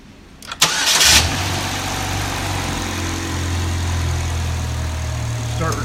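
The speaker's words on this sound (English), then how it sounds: "and we'll turn on the car and see what we have" A car engine cranks briefly and catches, then settles into a steady, close idle that runs alone without talk, with an electrical current and signal test setup connected.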